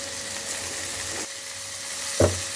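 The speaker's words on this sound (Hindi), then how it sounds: "प्याज हमारी सौते हो गई है।" Onions sauté in a pan for chicken macaroni, giving a steady, close sizzle with a brief clink of a utensil near the end.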